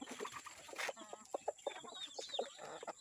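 Desi chickens on a poultry farm cluck and squawk in short irregular bursts, several birds close by, with no talking over them.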